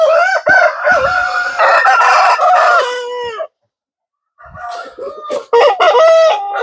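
Roosters at a poultry farm in Hyderabad crow and cluck loudly and up close. One burst of crowing is followed by a short silence, then a second round of crowing and clucking.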